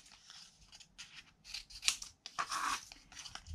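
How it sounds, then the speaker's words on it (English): Scissors snip through excess paper around a paper butterfly in quick, close, crisp cuts with short gaps between them. "I'm just gonna trim away some of this excess paper."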